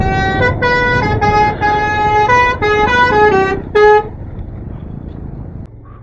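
A loud vehicle horn plays a rapid run of musical tones, repeating in bursts, then cuts off, leaving a lower rumble of engine and road noise.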